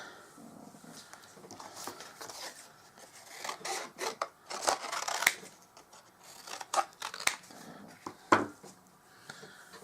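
Scissors cutting leaf shapes out of Whisper White card stock, irregular close snipping and rasping strokes at a moderate level, with no talking.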